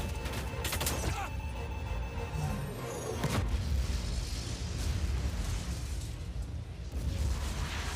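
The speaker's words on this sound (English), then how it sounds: "Minigun." A minigun in a video game roars in a dense, continuous buzzing stream, with a couple of sharp bursts early on and a steady loud drone throughout.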